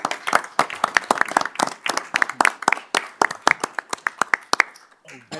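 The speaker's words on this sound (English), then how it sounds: "Let's give them a round of applause." An audience at a village board of trustees meeting claps with sharp, separate handclaps at a lively pace, a modest group rather than a roaring crowd, tapering off at the end.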